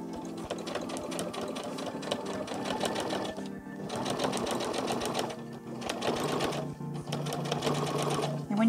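A sewing machine runs in steady bursts while top stitching a PUL nappy cover, its rapid needle chatter close and continuous with a few brief pauses and no talk.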